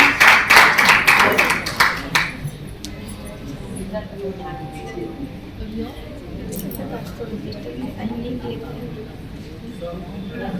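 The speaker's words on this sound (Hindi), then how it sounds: "एक बार जोरदार तालियों से स्वागत करें सरोज कंसारी जी।" Loud applause from an audience welcoming a poet to the stage at a kavi sammelan in Raipur, a dense burst of clapping for about two seconds that quickly fades into quiet room murmur and light talk.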